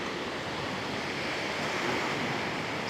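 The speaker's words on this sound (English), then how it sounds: "in case you're wondering what the beach area of Alicante looks like, here we are" Ocean surf rolls onto the beach at Alicante on the Spanish coast as a steady, full wash of waves with some wind noise on the microphone.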